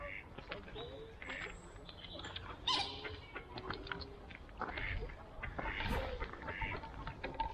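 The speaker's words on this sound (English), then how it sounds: "the ducks are out down this end at the moment." Ducks quack intermittently at a moderate distance over outdoor woodland background noise in North Wales, with a person talking nearby.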